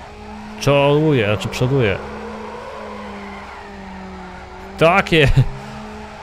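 A Mazda MX-5 drifting in Need for Speed Underground, its engine revving and tires squealing in two bursts, with someone talking over the driving.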